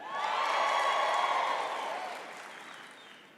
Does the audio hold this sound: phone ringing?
no